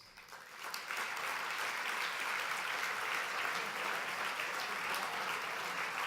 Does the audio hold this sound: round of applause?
yes